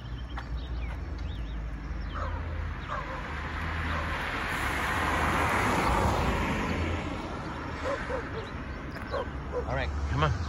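Dogs barking on a busy city street in San Isidro de El General, Costa Rica, a few short yaps scattered over steady traffic rumble and a swelling passing vehicle, moderately distant.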